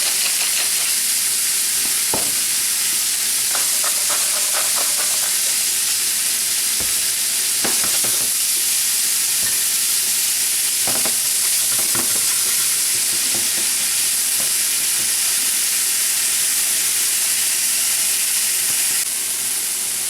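Shrimp and scallops seasoned with salt and pepper fry together in a hot pan, a steady loud sizzle and hiss running throughout with occasional scrapes and clicks of stirring, no voices.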